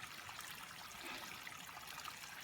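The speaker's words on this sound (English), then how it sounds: "water coming down the trail like a waterfall" Steady rushing and trickling of water running down a rocky Appalachian Trail path like a small waterfall, close and continuous with no talk.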